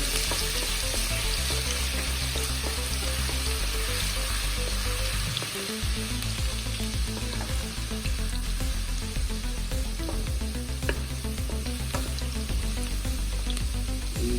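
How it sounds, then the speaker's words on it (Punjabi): Garlic and ginger frying in hot oil left over from frying kofte, a loud continuous sizzle with crackling that runs steadily throughout, close up. "ਉਸੇ ਤੇਲ ਦੇ ਵਿੱਚ ਲਸਣ ਅਦਰਕ"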